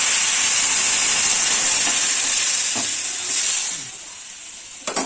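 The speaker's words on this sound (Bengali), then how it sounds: "সামান্য একটু জল দিয়ে সেদ্ধ করে নেব" Water splashed into a spice paste that has been fried down with sugar for a papaya and moong dal ghonto brings a loud, steady sizzle that gradually fades and softens, ending with a brief clatter.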